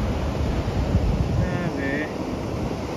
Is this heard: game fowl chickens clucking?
no